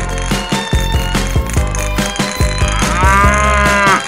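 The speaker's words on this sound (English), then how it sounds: "Cow." A cow lows loudly and close in a long, drawn-out moo that rises toward the end, with a steady rhythmic musical beat pulsing underneath.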